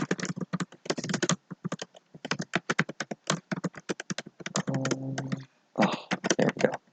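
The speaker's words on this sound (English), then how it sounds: "Small keyboard." Rapid typing on a small computer keyboard, close and crisp, with bursts of fast key clicks broken by short pauses and a brief hum midway.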